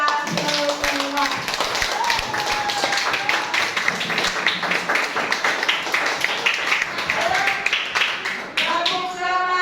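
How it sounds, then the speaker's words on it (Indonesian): Children in a classroom clap together in a dense, continuous burst of tapping hands, with teacher and pupil voices mixed in throughout. "Ibu minta tepuk tangannya dulu buat kita semua"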